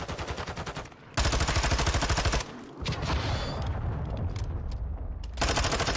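Video game combat: a cruise missile strike meeting a trophy defense system, with rapid automatic gunfire bursts, a heavy rumbling explosion, and more rattling fire, loud and continuous.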